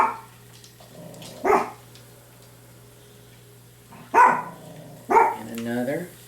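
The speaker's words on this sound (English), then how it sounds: "You hear my dogs." Small dogs, one a tiny four-pound dog, bark in short sharp bursts from a short distance inside a home kitchen, three separate barks with quiet gaps between them over a low steady hum.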